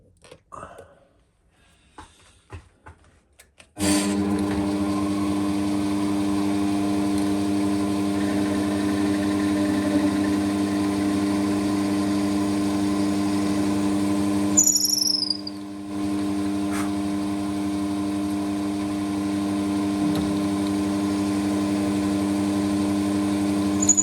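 A lathe runs steadily with a strong hum while a milling finishing bit works a tobacco pipe, holding a constant tone after a quiet start, with a brief shift midway.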